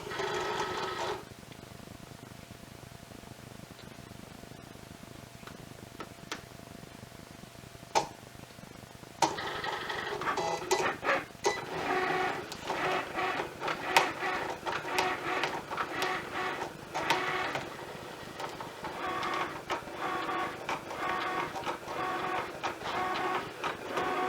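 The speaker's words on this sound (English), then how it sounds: "So here we have my Cricut machine." A Cricut cutting machine cuts paper and leather layers for a notebook cover. Faint, quiet whirring at first gives way to a busier run of small motor buzzes, clicks and ticks as the carriage moves back and forth.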